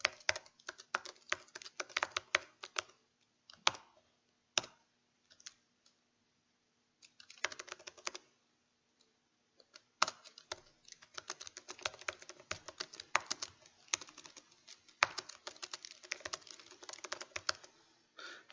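Code is typed on a computer keyboard in quick, irregular bursts of close, crisp key clicks, broken by short silent gaps, with no talking.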